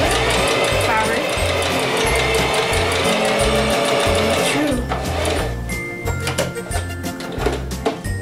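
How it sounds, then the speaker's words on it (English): A sewing machine runs a back stitch on fabric with a loud, steady rapid chatter up close, then slows into shorter bursts as a person talks over it. "a little back stitch and then stretch your fabric."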